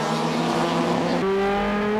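Toyota AE86 race cars launching at the start of a race at Tsukuba circuit, engines roaring at high revs with a sharp gear change partway through, loud and close.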